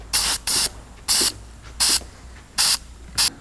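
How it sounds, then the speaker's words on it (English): Penetrating lubricant sprayed from an aerosol can on a Cummins-powered truck's engine bay: six short hissing bursts, roughly evenly spaced, close and fairly loud, with no talking. "It's a penetrative lubricant."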